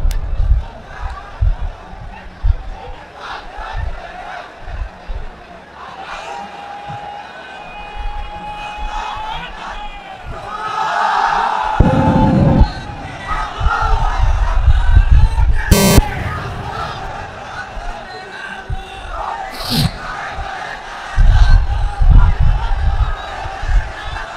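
A large crowd roars a takbir chant in unison, answering a preacher's call at a religious gathering in Lalmonirhat, with loud shouted bursts rising and falling and a voice leading between them.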